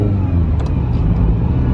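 A Ferrari 308 GTB barn find, revived for its first drive in years, idles loudly up close with a deep, steady engine rumble as it is shifted into first gear, with a couple of brief mechanical clicks from the shift.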